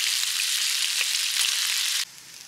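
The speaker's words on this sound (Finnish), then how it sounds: "Pekonisiivut paistetaan omassa rasvassaan." Bacon slices frying in their own fat, cooked only until still slightly soft, give a steady, loud, close crackling sizzle with faint pops; after about two seconds it abruptly drops to a much quieter hiss.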